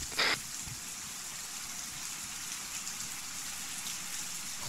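Steady rain in the military shooter game Arma 3, a continuous hiss of falling drops that sits evenly through the whole stretch, with a brief brighter burst near the start.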